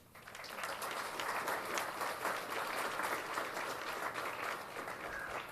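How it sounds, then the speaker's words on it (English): An audience at the Golden Sheaf Awards ceremony at the Yorkton Film Festival bursts into sustained applause, a dense, steady wash of many hands clapping that holds evenly throughout. "A big round of applause for all the generous organizations, individuals, and volunteers."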